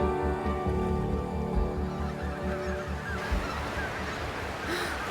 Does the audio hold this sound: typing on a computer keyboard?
no